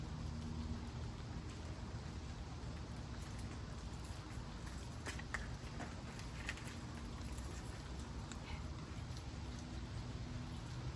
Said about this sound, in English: obviously it's raining